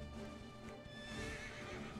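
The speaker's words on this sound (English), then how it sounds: "This is as fast as I can go on the horse." Horse hooves clip-clop at a gallop in Dragon Quest XI S, with a whinny mixed in over steady game background, fairly quiet and continuous for two seconds.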